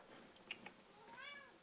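An indoor house cat gives a short, faint meow, a rising-and-falling call after a couple of soft clicks, quiet and close with no talking.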